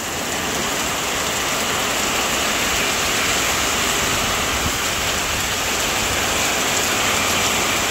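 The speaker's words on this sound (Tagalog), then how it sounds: "Bigla na naman pong umulan ng malakas." Heavy rain pouring down steadily and loudly, a dense unbroken hiss with no voices heard.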